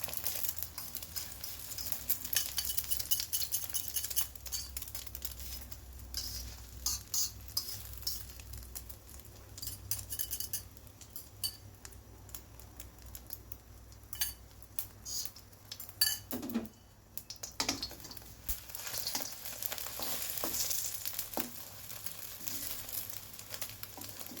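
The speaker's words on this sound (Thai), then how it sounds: "เรามาเจียวไข่กันเลยค่ะ" Beaten eggs frying into a thick omelette in a pan, with a soft sizzle under frequent scraping and clinking of a metal utensil against the pan, loud and continuous throughout.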